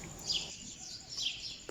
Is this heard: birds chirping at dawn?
yes